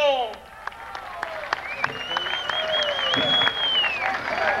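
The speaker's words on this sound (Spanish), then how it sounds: "¡Fuerte el aplauso!" Crowd applause at a jaripeo rodeo in Río Verde, Mexico, scattered clapping beneath a loud announcer's voice and a tonal sweep from the arena sound system.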